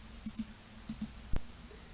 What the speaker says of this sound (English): If I click now, I can draw a line from that point.